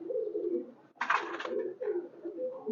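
Soft, low cooing from a Teddy pigeon, close by, in a few rolling phrases broken by a short flutter or rustle in the middle.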